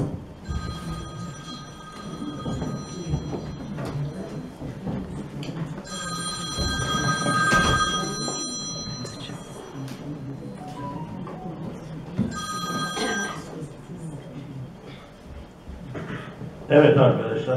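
An electronic telephone bell rings in repeated bursts during a lecture, its tonal chirps clearly audible over ongoing speech and room noise.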